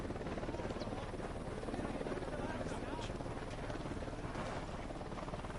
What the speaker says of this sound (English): Chopper inbound.